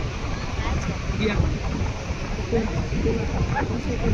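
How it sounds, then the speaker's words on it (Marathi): Strong wind at Gorai beach buffets the microphone in a steady, loud roar of rumbling gusts with no clear voices. "वारा सुटलाय."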